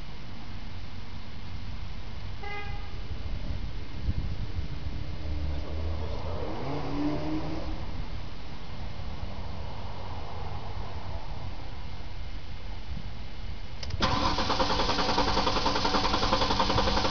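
A stalling car engine being started: a long, rough, noisy stretch of engine sound with a few faint clicks, then a brighter, louder burst near the end as it catches or revs, with no talk.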